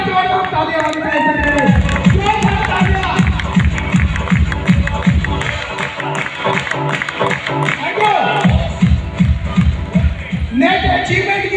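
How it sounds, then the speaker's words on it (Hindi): A crowd at a business promotion event in Maher claps and cheers loudly and steadily, with voices and babble mixed in, a brief dip near the middle before the applause surges again. "जोर से जोर से तालियां बजाते हैं"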